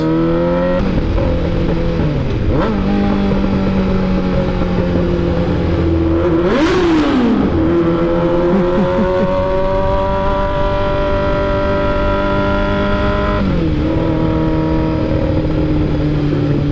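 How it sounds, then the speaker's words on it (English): Road traffic of cars and motorcycles on a busy street in downtown Nashville, a continuous loud engine drone with revving and shifting pitch, and a vehicle passing close by midway, without any talking. "There's a lot of traffic today because there's a football game going on downtown Nashville"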